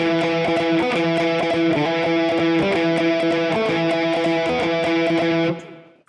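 A distorted electric guitar plays a rhythm riff without palm muting, with steady fast strummed chords ringing loud and open for about five seconds before cutting off.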